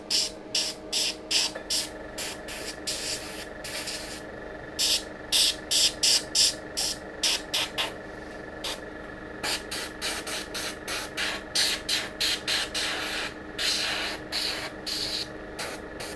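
Short hissing blasts of air from a small compressor blow dust off a microscope. The bursts repeat in irregular clusters with brief gaps between them, loud and close, and no one speaks.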